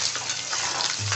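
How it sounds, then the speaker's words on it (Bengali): Eggs frying in hot oil in a pan for an egg curry, a close, steady hissing sizzle over about a second, with a faint low hum near the end and no talking. "দেখুন আপনাদের সাথে কথা বলতে বলতে আমার ডিম ভাজা হয়ে গেল।"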